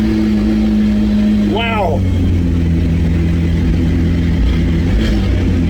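A straight-piped McLaren P1, a rebuilt flood-damaged car, idles in a workshop with a loud, steady, deep engine drone throughout, while a person exclaims briefly over it.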